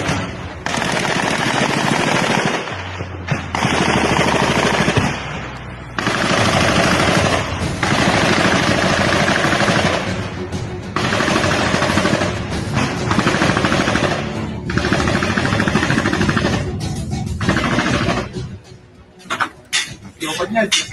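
Autocannon on a BMP infantry fighting vehicle firing in the Russia-Ukraine war, loud rapid bursts of heavy shots separated by short pauses, with a few sparse shots trailing off at the end.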